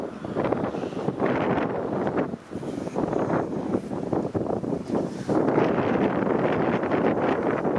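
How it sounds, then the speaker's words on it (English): Steady wind buffeting a microphone outdoors on Lake Shore Boulevard West near Exhibition Place in Toronto, with light drizzle, a continuous roaring rumble that gusts slightly louder toward the end, with no voices. "and it's windy."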